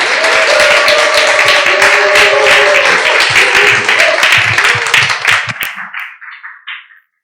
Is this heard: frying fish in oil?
no